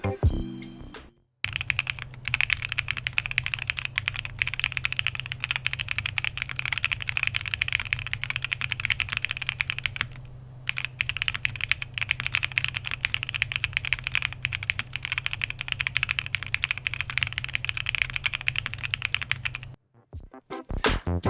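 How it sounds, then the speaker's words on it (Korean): Fast, continuous typing on a Mykeyclub MKC75 prototype custom mechanical keyboard, crisp close clacks in a dense stream with a brief pause midway, heard alone. "나사를 조여주고 바로 타이핑 사운드를 체크해 보겠습니다."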